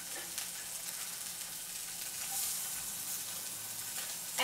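Food sizzles steadily in an oiled pan, laid flat side down, a continuous broadband crackle and hiss close by with no talking.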